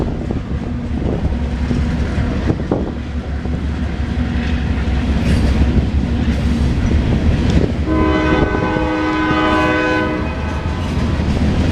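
A CSX westbound ethanol freight train rolls through Fostoria, Ohio, with a loud continuous rumble of wagons and wheel clatter, and its horn sounds in long, harmonically rich blasts partway through.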